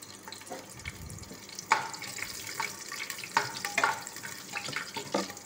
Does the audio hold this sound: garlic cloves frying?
yes